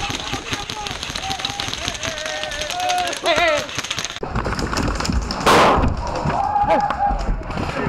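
Airsoft guns fire rapid bursts of sharp cracks and pops during a fort assault game, outdoors and close, mixed with shouting voices and a louder bang partway through.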